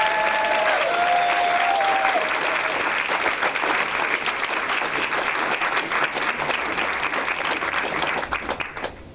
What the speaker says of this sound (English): So let's give you a big round of applause.